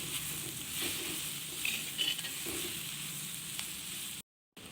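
French beans and diced potato fry in a hot wok, sizzling steadily while being stirred, with soft scraping bumps, then the sound cuts out briefly near the end.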